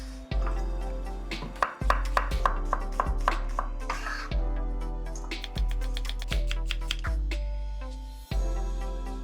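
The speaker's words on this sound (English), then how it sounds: "Fastest way to chop your chili." A knife chops chili on a cutting board in quick rhythmic bursts of sharp, close taps with brief pauses between runs.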